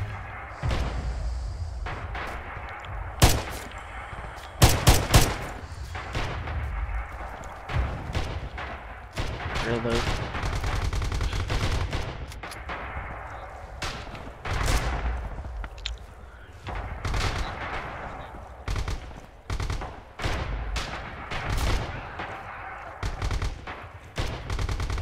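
Gunfire in the WWII shooter Red Orchestra 2: a steady run of sharp rifle and machine-gun shots, several loud near cracks among quieter distant bursts, with low rumbling battle noise underneath throughout.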